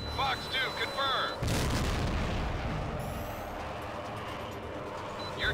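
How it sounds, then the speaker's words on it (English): An in-game missile impact from the HAWX jet combat game, a loud broad explosive boom that rolls on as a sustained rumble, with clipped radio chatter heard just before. "Missile impact."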